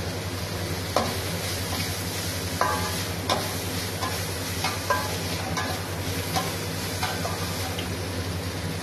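Green chillies and curry leaves fry in a pan for ragi semiya, a continuous dense crackling sizzle under a series of light scraping stirs and scattered taps, with no voices.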